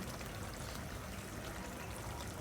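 Rinse water from a blender poured into a pan while cooking hilsa fish korma, a steady close pouring trickle running throughout with no talk.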